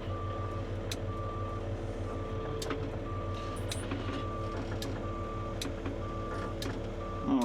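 A truck backing out from under chains gives steady, evenly spaced reversing beeps over a constant idling diesel rumble, close by and loud, with a few clanks and no talk.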